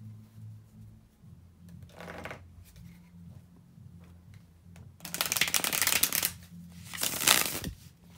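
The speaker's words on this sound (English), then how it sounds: "bear with me a second, guys, to shuffle the tarot cards" Tarot cards shuffled by hand close up: a brief riffle, then two longer, louder bursts of rapid flicking over a faint low hum, with no talk.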